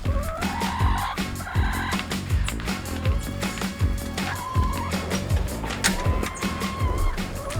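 Retired laying hens cluck and call repeatedly in quick overlapping bursts, a busy rhythmic flock sound close by.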